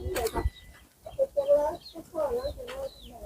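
Young chickens scuffling together cluck and chirp in short, close bursts, with gaps of quiet between the calls and a few brief knocks at the start.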